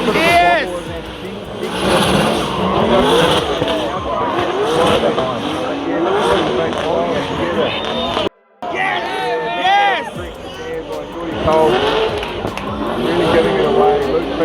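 A 400hp street drift car skids around Mt Smart Stadium during a pro drift event, its engine roaring continuously and tires squealing in repeated rising and falling bursts over crowd noise and a commentator's voice, with one sudden brief dropout midway.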